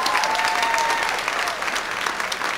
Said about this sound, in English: Give that a big round of applause, yes?